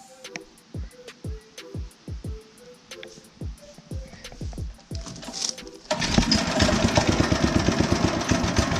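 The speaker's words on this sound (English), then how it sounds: "So that's with the choke on, and we'll go ahead and pull start it." A sod cutter's small engine is pull-started with the choke on, several rhythmic cranking pulls followed by the engine catching and running in a steady, loud chugging idle.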